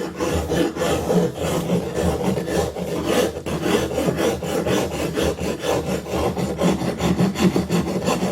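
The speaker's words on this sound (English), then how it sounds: "if you want to get a little finer, you can do a regular rasp." A regular rasp files a direct-plaster sculpture with quick, repeated scraping strokes, a loud, close, gritty rasping that keeps a steady rhythm throughout.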